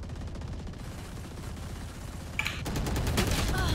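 Rapid gunfire from the Valorant video game rattles in continuous bursts and grows louder and denser toward the end.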